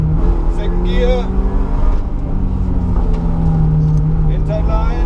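A car powers through an autocross slalom run, its engine pitch rising and settling steadily as it accelerates, loud and close with a voice talking over it.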